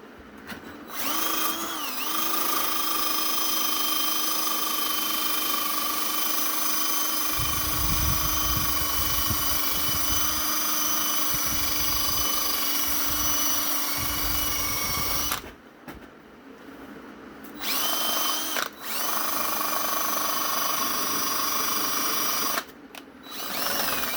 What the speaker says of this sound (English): Time to take the wire brush to it.